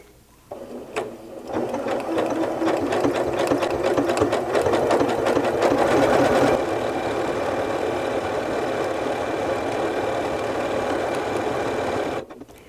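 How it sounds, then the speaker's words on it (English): A sewing machine stitches a decorative pattern on stabilized fabric, starting up and running loud and steady for about eleven seconds before stopping. "So I'm going to just run probably maybe 1 or 2 of these iterations of the stitch"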